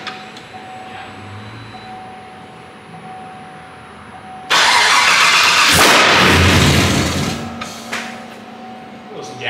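A 2017 GMC Sierra truck engine cranks and fires after being assembled and installed, a sudden loud roar breaking in midway over a quiet background and running several seconds before easing off.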